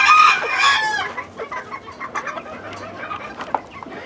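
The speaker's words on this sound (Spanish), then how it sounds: "hermoso gallito." A rooster lets out a loud burst of clucking up close at the start, followed by softer scattered clucks and chicken noises in the background at a gamecock breeding farm in Peru.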